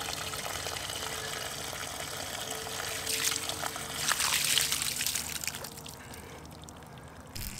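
Spring water trickles and splashes into a microhydro spring box as it fills, a steady close stream that swells louder for a few seconds midway and then settles back.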